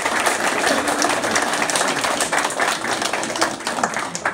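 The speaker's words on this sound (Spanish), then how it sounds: "Un fuerte aplauso para él," A crowd claps thickly and evenly at an awards ceremony honouring distinguished figures of Huancayo, Peru. The applause is fairly close and keeps a steady level for over four seconds.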